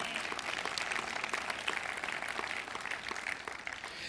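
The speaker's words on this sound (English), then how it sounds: "clap your hands to God if you got it" A church congregation claps hands together in a steady, dense wash of applause, close and continuous with no voices standing out.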